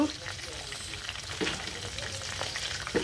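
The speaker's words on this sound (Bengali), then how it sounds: "তেলের সাথে একটু ঘি দিব গ্রান হওয়ার জন্য।" Ghee hits hot oil already holding cinnamon, cardamom and bay leaves, producing a steady close sizzle and crackle with a few small pops, continuous throughout and without talk.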